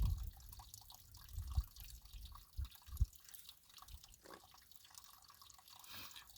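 Drops of chlorine dioxide and phosphoric acid activator falling into a small plastic mixing cap outdoors in Canyonlands, a few faint, soft drip taps in the first seconds over quiet background hiss.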